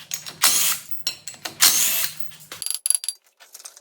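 A truck axle spun by hand on an OBS drum-to-disc brake conversion, its parking brake mechanism ratcheting and clicking; two loud whirring spins followed by quick rattling clicks, close and without talk.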